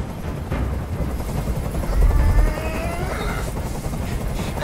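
A helicopter's rotor chop in the video game Detroit: Become Human thrums steadily in the background, loud and continuous, with a swelling rumble partway through.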